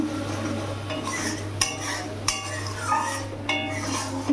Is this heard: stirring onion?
yes